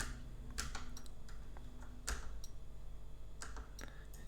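Typing on a computer keyboard during play of the game Nebuchadnezzar, with scattered clicks and short bursts of keystrokes over a steady low hum, fairly close.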